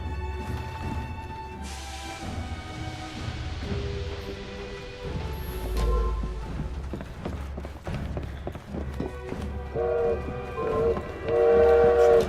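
A steam-era train in Assassin's Creed Syndicate rumbles past with a low rolling clatter, a whistle blowing near the start and louder tonal horn blasts toward the end, mixed with game sounds.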